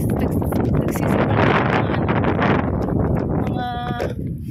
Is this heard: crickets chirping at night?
no